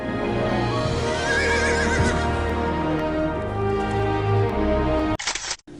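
A horse neighs loudly and close, a long whinny with wavering pitch over steady background noise, then the sound cuts out near the end.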